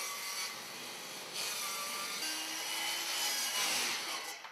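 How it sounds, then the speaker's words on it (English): A circular saw fitted with a guide cuts a flanged duct along the middle of its flange, giving a steady close rasping, grinding cut that swells and eases over several seconds, with no talking. "Use the circular saw with attached guide to cut the duct along the midsection of flange."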